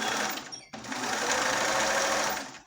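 A sewing machine back-stitches a seam on a throw pillow with an envelope back, running as a loud, steady close-up whir that breaks off briefly and then resumes and continues to the end.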